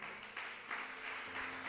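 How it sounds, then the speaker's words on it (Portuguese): Church congregation applause during a sermon, a brief, muffled and fairly distant wash of clapping over room hum with no clear single claps standing out. "Quem pode aplaudir o Senhor por isso?"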